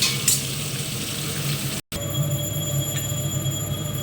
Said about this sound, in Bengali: মাছ ভাজা হয়ে গেল এবারে তুলে দেব